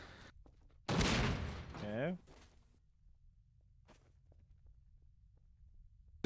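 Sniper gunfire in Trouble in Terrorist Town hits a player: one loud burst of shots lands near the start, then a few faint scattered cracks follow while someone talks briefly.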